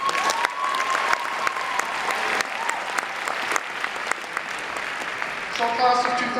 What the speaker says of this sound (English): Give yourselves applause.